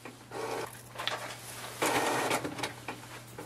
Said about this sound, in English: so it's printing the print head alignment page